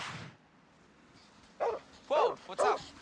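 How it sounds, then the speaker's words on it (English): A dog gives three quick, fairly close barks in succession after a brief quieter stretch, sharp and yappy with a faint low background murmur. "Vicious dog, run!"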